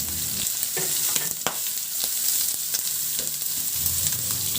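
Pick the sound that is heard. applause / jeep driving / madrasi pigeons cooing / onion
onion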